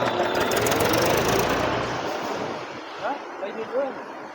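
A tractor-driven thresher runs with a loud, steady mechanical rattle and drone that eases off after a couple of seconds, leaving a fainter hum, squeaks and a few voices nearby.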